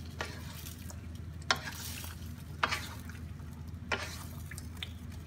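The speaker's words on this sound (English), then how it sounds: "we'll give it a stir again" A metal spoon scrapes and stirs through a sizzling pan of coconut-milk sauce for crabs, with three or four distinct clacks over a steady low bubbling hiss and no voices.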